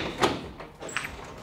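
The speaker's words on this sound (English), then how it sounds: "the option to open these doors up" Sliding glass terrace doors in a brand new luxury seaside home being pushed open, a short rumbling slide followed by a couple of softer clunks and a faint rattle, close and alone.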